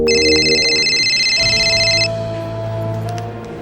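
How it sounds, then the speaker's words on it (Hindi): A phone rings with an electronic trilling tone for about two seconds, then stops, followed by low hum and faint ticking. "जब जौनपुर में दोबारा सूरज ढला तो जीनत को असलम का फोन आया।"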